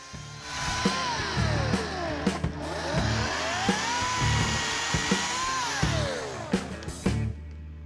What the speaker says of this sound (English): I'm just speaking the pros of a general battery-powered cordless chainsaw.